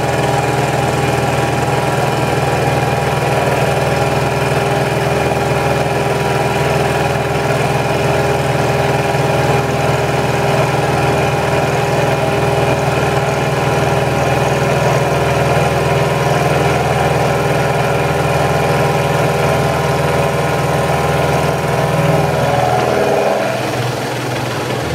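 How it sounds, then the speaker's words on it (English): A milling machine runs steadily for the whole stretch, a loud constant mechanical drone with a whining tone as it machines the ends of a steel part for a powered lathe slotter, ending with a brief clunk as the cut finishes. "we'll mill the ends and bring that back to width"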